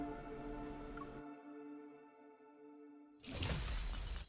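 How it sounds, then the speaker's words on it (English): A protocore cluster shatters in the Love and Deepspace video game: a sustained tonal hum drops to quiet, then a loud bright crashing burst of breaking crystal erupts and holds to the end. "As the protocore cluster shatters, a distant tremor ripples through the air."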